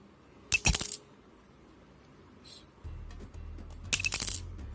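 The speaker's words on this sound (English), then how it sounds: "So now compare this to the original coin." A genuine 1995 Indian 5 rupee coin is dropped onto a hard surface twice, each landing giving a bright metallic ring and a short run of bounces, with a quiet pause between the two drops.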